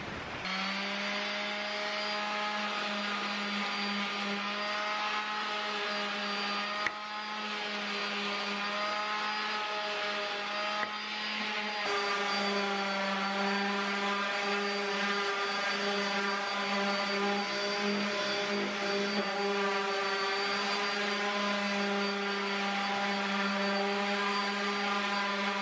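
A power sander works over the wooden boards of a queen-size bed frame with a steady, loud whining motor drone that holds continuously for about 25 seconds, with a slight change in pitch partway through.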